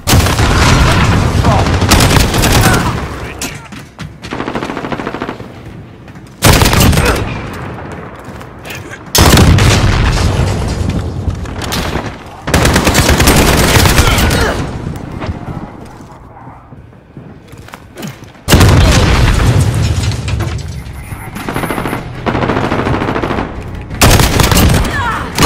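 C4 explosive charges detonate in a video game, several loud, close booming blasts at intervals with rumbling decay and gunfire-like crackle between them, no one talking over them.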